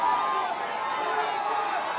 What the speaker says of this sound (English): Crowd willing him on. They want to see him finish.